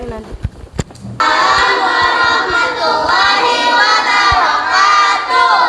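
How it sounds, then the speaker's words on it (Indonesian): Schoolchildren clap and cheer loudly for a classmates' group after a presentation, with a few sharp claps first, then a burst of high-pitched shouting and cheering that carries on to the end. "Kita kasih tepuk tangan untuk kelompok 2."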